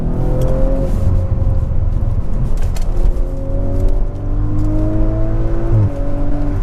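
An Audi RS5 quattro engine pulls hard through a curve on track, loud and close, its pitch rising in smooth climbing sweeps with a brief shift-like break near the end, no talk.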